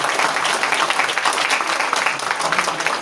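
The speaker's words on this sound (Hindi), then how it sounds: "जोरदार तालियों से स्वागत कीजिए।" Enthusiastic applause fills a hall at an award ceremony for an international Gita festival, a dense, continuous clapping from a sizable crowd lasting the whole three seconds without a break.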